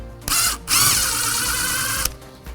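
A cordless drill drives a screw while a premium hinged door is installed, with a short burst, a brief pause, then a steady whirring run of about one and a half seconds before stopping, close and loud.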